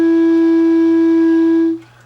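A clarinet sounds one sustained note while a side key is wrongly pressed, giving a steady, close tone that holds for nearly two seconds and then cuts off.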